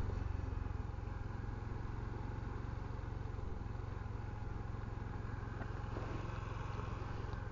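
A Honda Trail 125 CT125 motorcycle rides around an old mall parking lot, its small engine putting out a steady low chugging hum under continuous wind noise.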